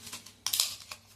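Roasted bay leaves crackle as they are broken by hand, giving a short burst of dry, crisp crunching snaps that peaks midway and then trails off in a few softer crackles, close and fairly quiet.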